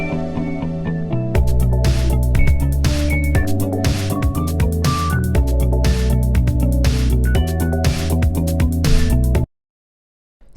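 A full dreamcore beat in vaporwave style plays loud and dense, with a steady rhythmic pulse, bright melodic synth lines and heavy low end, before cutting abruptly to silence near the end.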